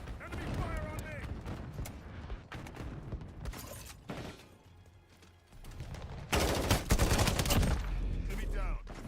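Video game gunfire in Modern Warfare 4: rapid automatic bursts and sharp shots, some close and loud, with a quieter lull midway before heavy firing resumes, mixed with voices and game callouts.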